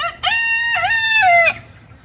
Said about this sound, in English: Jenny, you out and about with the chickens now